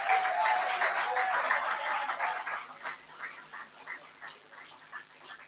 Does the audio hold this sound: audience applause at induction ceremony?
yes